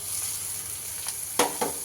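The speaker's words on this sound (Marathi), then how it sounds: "तो सुद्धा असा व्यवस्थित यामध्ये हे करायचा आहे, तेलामध्ये भाजून घ्यायचा आहे" Chopped onion and tomato frying in hot oil for a stuffed chilli masala, a continuous close sizzle with a couple of brief louder crackles and scrapes toward the end.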